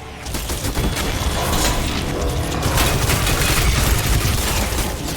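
Dense, continuous gunfire from the Crysis 2 video game, a loud crackling barrage of rapid shots with mechanical clatter that holds steady throughout.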